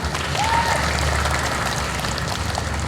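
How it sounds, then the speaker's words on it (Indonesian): Audience applause at an award ceremony for the Malang city government, a steady dense wash of clapping that holds loud and even throughout with no voices over it. "Ya, tepuk tangan ini Bu."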